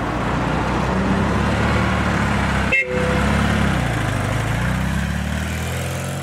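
Busy Paris street traffic, with a steady wash of engine and road noise and a single short car horn toot cutting through near the middle.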